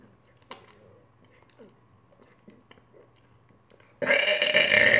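A boy burps loudly: after several seconds of faint clicks and low household noise, one long, rough, raspy belch starts suddenly and keeps going to the end.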